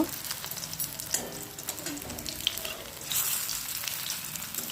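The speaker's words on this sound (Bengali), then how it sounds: "এভাবে উল্টে পাল্টে লাল লাল করে ভেজে নিতে হবে" Pointed gourd fritters fry in mustard oil in a kadai, a close, steady sizzle with crackling spatters and occasional scraping as the pieces are turned, swelling louder near the end.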